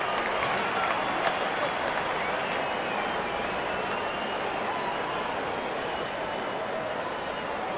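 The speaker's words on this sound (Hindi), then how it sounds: "इस बल्लेबाज को तो विपक्षी प्रशंसक भी तालियों से सराह रहे हैं।" A cricket stadium crowd at an RCB vs MI match applauds a boundary, with dense, continuous clapping and cheering from a large distant audience holding steady throughout.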